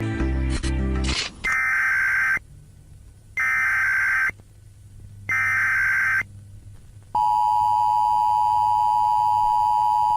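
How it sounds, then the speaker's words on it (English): Emergency weather warning broadcast: three identical harsh alarm tone bursts separated by brief pauses, followed by a long, steady, piercing single tone; loud and electronic. "Those alarm sounds never mean anything good though."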